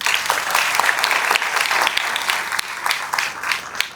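An audience at a school Ganesh festival claps loudly and steadily, the dense applause rising and falling slightly with sharp individual claps standing out throughout.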